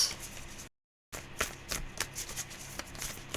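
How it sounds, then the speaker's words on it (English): A heart-shaped tarot deck is shuffled by hand close up. Soft, rapid riffling and flicking card sounds run throughout, broken by a brief total dropout near the start. "Such a difficult deck to shuffle, this one."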